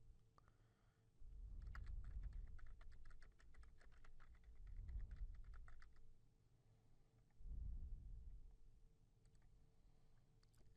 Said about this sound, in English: type in the message you want to send to the patient